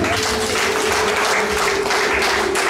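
Loud, steady applause from a crowd, with a high sustained ululating cry carried over the clapping.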